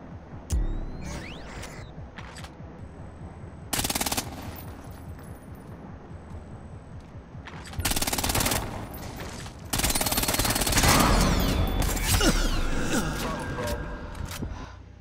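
Bursts of gunfire in Splinter Cell Blacklist, a stealth shooter, with loud rapid volleys and automatic fire separated by quieter stretches, plus mechanical clicks and German-speaking voices in between.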